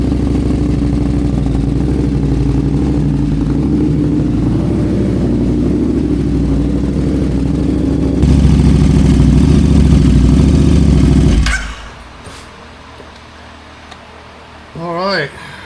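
A 2018 KTM 1290 Super Duke R starting cold, its engine running steadily and loudly for several seconds, then rising briefly before cutting out. A short, faint revving burst follows, with quiet background afterwards.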